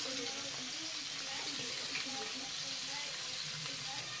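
Pointed gourd and potato frying with turmeric in a pan, a soft continuous sizzle at low volume with faint stirring, while someone talks over it.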